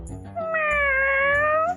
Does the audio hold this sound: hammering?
no